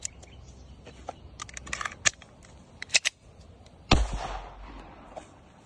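A TT signal pistol firing a single blank round, a sharp, loud crack near the end after a series of light metallic clicks and handling noises.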